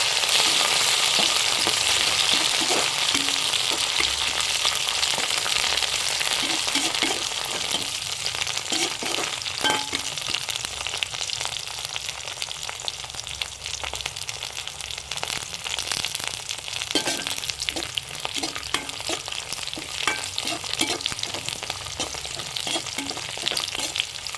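Coriander and curry leaves fry in a pan with a steady, close sizzle and crackle, stirred now and then with soft scraping, continuous and fairly loud with no talk.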